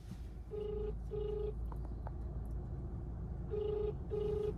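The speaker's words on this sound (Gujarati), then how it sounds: "હવે ભાઈને ફોન કરી" A phone rings back while a call is placed in a busy town market: four short electronic ringback tones in two pairs, separated by a long gap, over steady traffic rumble.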